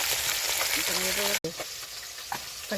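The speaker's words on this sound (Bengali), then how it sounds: "আর মাছটা ভাজা হচ্ছে" Mrigal fish frying in a pan, a steady broadband sizzle running throughout with a brief cut midway and a few light clinks; a voice murmurs faintly underneath.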